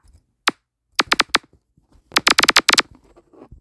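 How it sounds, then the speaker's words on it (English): A few sharp electronic electro splat percussion samples in BandLab, a single hit then clustered bursts of bright, snappy splats with quick decays, loud and close, no talk. "And then like electro splat"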